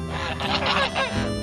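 Several geese honk loudly and close by, overlapping calls rising and falling in a noisy, continuous chorus.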